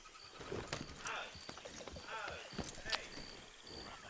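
Horse hooves walking in Red Dead Redemption 2, soft irregular clip-clops at a moderate pace under a man's speech and a faint background hum.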